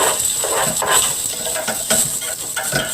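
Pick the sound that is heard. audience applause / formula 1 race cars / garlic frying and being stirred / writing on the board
garlic frying and being stirred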